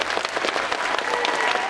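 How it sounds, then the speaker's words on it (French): Dense audience applause at a cosplay parade during a gaming festival in Charleville-Mézières, steady clapping from many hands close by with no voices over it. "On pourrait peut-être déjà commencer par les applaudir pour leur donner du courage."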